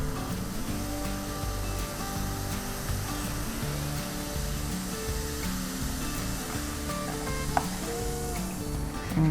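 Vinegar fizzing and foaming in a stainless steel pot during cleaning, a steady dense hiss of bubbling under faint background tones, close and continuous with a small clink near the end.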